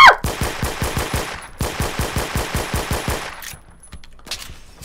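Rapid automatic gunfire in a shooter video game, two long bursts of loud, evenly spaced shots in quick succession, then a few faint scattered pops as the firing stops.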